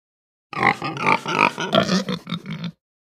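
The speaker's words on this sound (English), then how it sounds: "Pig" A pig grunts and snorts in a quick run of rough, nasal bursts. The sound is close and fairly loud, with no other noise around it.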